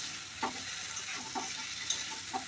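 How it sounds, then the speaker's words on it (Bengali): Fried vegetables and spices for Bengali shukto are stirred in a pan, with a few soft scrapes over a faint, steady sizzle, close and quiet. "ভেজে রাখা সবজিগুলো দিয়ে ভালো করে নাড়িয়ে চাড়িয়ে নেবো"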